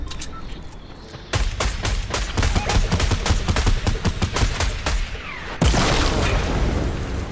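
Gunfire in the video game Fortnite, dense bursts of rapid shots and booming hits over a continuous game-sound bed, loud and close, with a sharp change in the background partway through.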